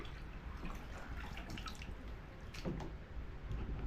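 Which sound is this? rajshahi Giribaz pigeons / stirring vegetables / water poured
water poured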